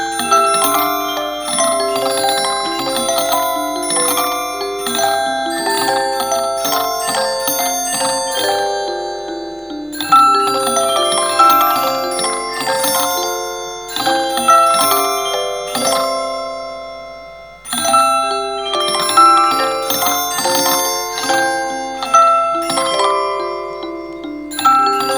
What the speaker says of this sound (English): I have hooked up the contact mic to my sound card so we can record the music box.